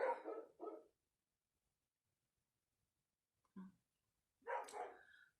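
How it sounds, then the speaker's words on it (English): A dog behind a gate barks in short bursts, two quick barks, a brief low yip after a pause, then a longer bark, moderately distant with silence between. "she barks at everyone that passes the gate these days"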